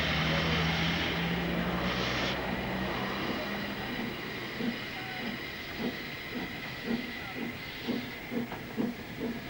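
A Ffestiniog Railway narrow-gauge train running through Snowdonia: a steady hiss and rumble with rhythmic clicks of wheels over rail joints that quicken toward the end.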